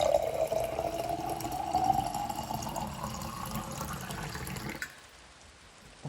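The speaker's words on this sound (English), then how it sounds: "here is water pouring in a jar" Water pours steadily into a jar, a continuous filling gurgle whose pitch rises gently as the vessel fills, close and clear, then stops abruptly near the end, leaving near silence.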